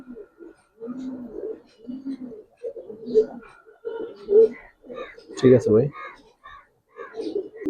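A male Giribaz pigeon gives repeated low, throaty coos in a steady pulsing series, close by, while someone speaks briefly.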